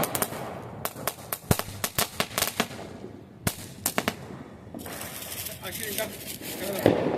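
Diwali firecrackers bursting outdoors, a rapid run of sharp cracks and pops with irregular spacing, then a denser crackling stretch, while people talk and shout nearby.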